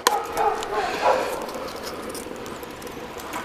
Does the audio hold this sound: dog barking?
yes